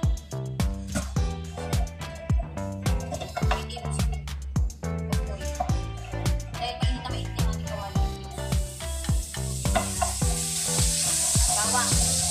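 Garlic, tomato, tomato paste and chili flakes sizzling in a pan while being stirred, a steady frying hiss under clinking stirs and background music, growing louder toward the end.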